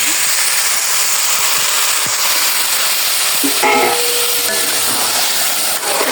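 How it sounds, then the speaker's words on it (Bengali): Loud, steady sizzling and hissing of vegetables frying in a pan as water is poured in, with a burst of bubbling steam midway and faint stirring taps. "এখন এই জল দিয়ে দিলাম"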